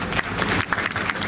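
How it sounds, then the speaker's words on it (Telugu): An audience at a public event with a former governor claps for a teacher, in a dense, steady round of applause that lasts the whole moment. "చప్పట్లతో వారిని అభినందించాలని విజ్ఞప్తి చేస్తున్నాం"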